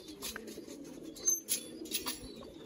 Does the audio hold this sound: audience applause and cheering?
no